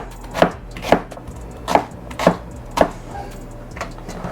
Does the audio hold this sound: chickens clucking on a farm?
no